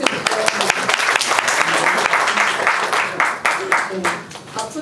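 Loud, dense audience applause in a cinema during a film screening event with director and actor guests, sustained for several seconds with a voice speaking over it near the end.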